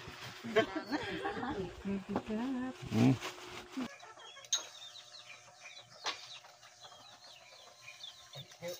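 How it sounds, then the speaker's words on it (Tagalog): Chickens cluck and chatter nearby, mixed with people talking over them, the bird calls coming in short irregular bursts. "Kayo malalaki na kayo manok na kakatayin na kayo namin."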